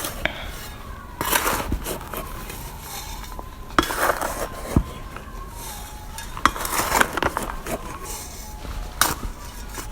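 Fertilizer being stirred into water in a container for potted potato plants: irregular scraping and clinking knocks, with a few sharper hits over a steady low rustle.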